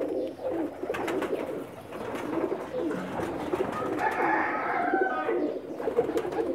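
Pakistani pigeons cooing near a loft in Jeddah, a steady run of low, throaty coos repeating close by, with softer bird calls layered over a busy background.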